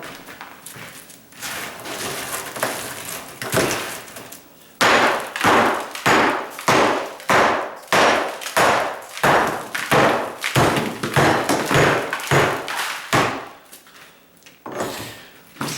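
A kitchen tile countertop is broken out with a rapid run of loud, sharp impact thuds and cracks of tile and mortar, at first scattered and then falling in a fairly regular rhythm, close and without talk.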